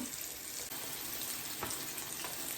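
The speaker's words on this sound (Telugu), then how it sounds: "ఇలానే మొత్తం ఫిషెస్ మొత్తము మనం డీప్ ఫ్రై చేసేసుకున్నాము" Fish pieces for Apollo fish deep frying in hot oil make a dense, continuous bubbling sizzle, steady and moderately quiet, with a couple of faint knocks partway through.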